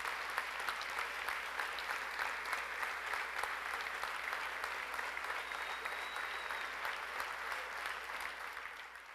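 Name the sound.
audience applause at mayor's dinner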